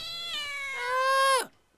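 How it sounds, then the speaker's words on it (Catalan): A kitten gives one long, drawn-out meow that rises and strengthens before dropping off abruptly, clear and close with nothing else around it. "el gatet ja és aquí"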